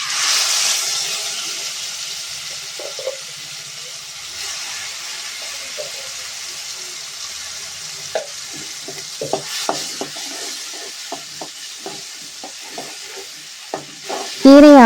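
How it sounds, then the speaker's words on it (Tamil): Cooked spinach paste is stirred into hot oil with cumin and cinnamon bark, giving a soft continuous sizzle with scattered spoon scrapes and clinks against the pan, close and moderately loud. "பட்டை போட்டு பொரிஞ்சதும் அரைச்சி வச்சுருக்க கீரையை சேர்த்து நல்லா மிக்ஸ் பண்ணி விட்டுக்குங்க."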